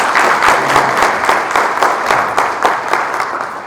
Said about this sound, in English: So I think they deserve a big round of applause.